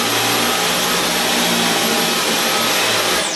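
A Dyson V11 Absolute cordless vacuum cleaner runs continuously with a loud, steady, jet-like whine and airflow roar, then winds down at the very end.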